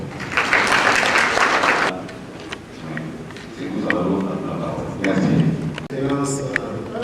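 A seated audience at an occupational health office anniversary event bursts into applause, a loud dense clapping that stops abruptly, after which someone speaks over a quieter room.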